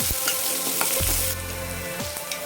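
Sliced onions and green chillies crackle loudly in hot oil in a pan, a constant close sizzle with a few stirring knocks and scrapes.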